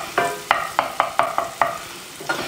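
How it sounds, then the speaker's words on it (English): Breaded fish frying in hot fat, with a steady sizzle broken by about eight sharp scraping or clattering strokes at a fairly even pace, close and moderately loud. "that'll go right into our hot fat"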